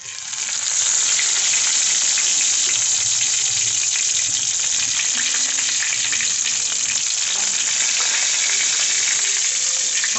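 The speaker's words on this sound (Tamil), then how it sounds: "அடுத்தது கருவேப்பிலை கொஞ்சம் போடுறோம்." Curry leaves hitting hot oil with sautéed onions in a pan, a loud, continuous, hissing sizzle that sets in sharply and stays even, with no voices.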